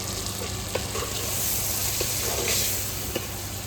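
Tomatoes hiss and sizzle in a hot pan with turmeric and asafoetida, a steady loud frying crackle with occasional stirring clicks, close and continuous without talking.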